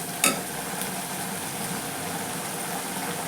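Onions and ingredients sauté in a pan for home-style prawn rice, a steady soft sizzle with a brief clink of a utensil near the start and no talk.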